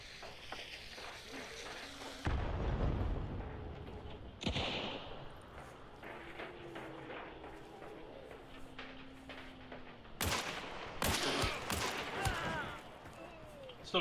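Carbine shots in Hunt: Showdown, a few sharp loud cracks standing out from quieter game ambience, with a distinct burst early and another pair near the end.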